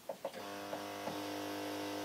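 A sewing machine stitching a seam through taffeta for a baby's party dress, with a few soft clicks as it starts, then a steady, quiet, even hum.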